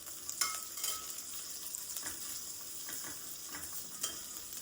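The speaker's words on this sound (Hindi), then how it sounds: "जब तक प्याज फ्राई हो रहा है" Onions frying in a pan for a masala veg pulao, a soft steady sizzle with repeated scraping stirs of a spoon against the pan, fairly quiet and close, no talk.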